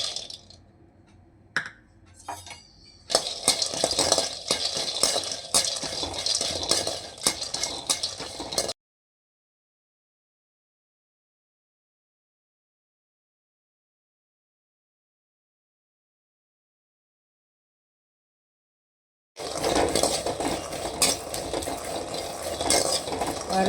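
Peanuts being dry-roasted and stirred in a pan, nuts rattling and clattering with metallic scraping in bursts, close and busy, broken by a long stretch of total silence before the rattling resumes.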